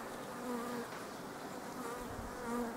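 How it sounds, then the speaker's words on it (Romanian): Honeybees buzz steadily around an opened beehive during spring work at an apiary, a dense soft drone with brief individual bees passing close by and no talking. "e foarte multă albină tânără, multă de tot tineret, pentru că o eclozionat"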